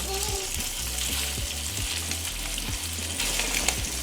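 Meatballs browning in a frying pan give a steady, close sizzle and crackle with scattered spatter pops, running unbroken for the whole stretch with no voice over it.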